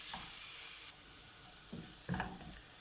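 Chopped onion, ginger and garlic sauté with a pinch of salt in a pan for beef cutlet, giving a faint, steady sizzle broken by a few soft spatula scrapes toward the end.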